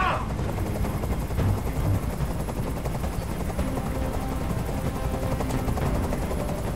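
A constant, loud helicopter rotor thrum and rumble in the video game Detroit: Become Human fills the scene, with rapid rattling bursts like gunfire mixed into the dense noise.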